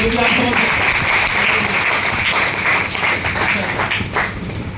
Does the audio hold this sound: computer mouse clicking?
no